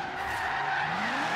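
A car drifting in Forza Horizon 3, with a loud, sustained tire skid screeching over engine roar across the whole moment, close and continuous.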